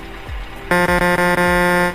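A truck's air horn in the driving game Euro Truck Simulator 2 blasts loud and close for just over a second, following a brief low rumble.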